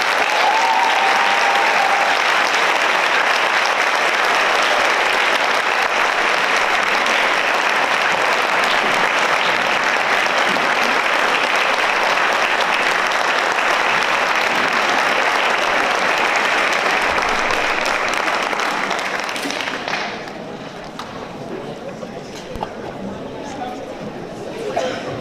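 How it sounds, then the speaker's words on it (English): A high school audience at a National Honor Society induction ceremony applauds loudly and steadily for about twenty seconds. The clapping then fades into quieter crowd chatter. "please join me once again in applauding all of our new National Honor Society members"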